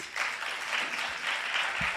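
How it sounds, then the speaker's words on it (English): Audience applause for the speakers at an event, a steady wash of many hands clapping at moderate volume, fairly even across the short stretch with a few low thumps near the end. "All right, a round of applause for speakers, please."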